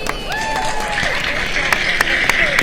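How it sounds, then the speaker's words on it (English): Audience applause at an orthodontics convention live show, steady clapping throughout under a faint background voice, with a few sharper individual claps standing out. "Can we clap it up for Katie"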